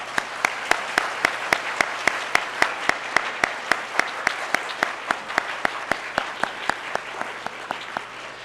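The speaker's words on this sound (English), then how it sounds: "all the staff at St. Stephen's School a really big clap, please?" Audience clapping for the staff at St. Stephen's International School's primary awards ceremony, sounding as a steady run of sharp claps in an even rhythm, heard alone without talk.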